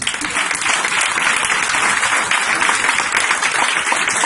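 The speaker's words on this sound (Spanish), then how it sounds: "Un aplauso, muchachos" Church congregation applauds during a sermon, a dense, continuous wash of many hands clapping at even loudness throughout, with no voices over it.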